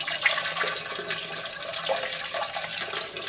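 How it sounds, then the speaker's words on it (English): Hot wort poured over bags of grain during sparging for a 10-gallon IPA batch, a steady close splashing and trickling of liquid with no talk. "So for sparging the grains, we're just basically pouring this over, this wort over the bags"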